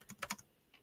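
Several quick keystrokes on a computer keyboard, faint and close, tapped in a short uneven burst before falling quiet.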